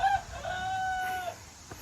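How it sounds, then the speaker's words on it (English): A rooster on a small homestead crows once in a single drawn-out call, moderately distant and fairly faint against quiet outdoor background. "listen to the rooster"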